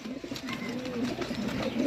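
Pigeons, young Sialkoti birds offered for sale, coo steadily and close by with a continuous low murmur throughout, no talking over it.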